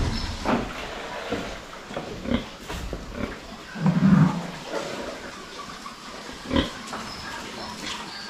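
Pigs on a farm give scattered grunts and oinks, near and moderately loud, with one louder squeal midway and shuffling, knocking pen noises between calls.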